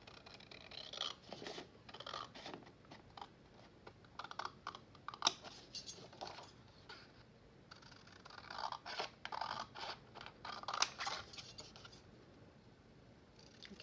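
Scissors snipping through decorative cardstock from a 12x12 paper pack, a run of close, crisp cuts in uneven bursts with short pauses, quiet and alone with no talk.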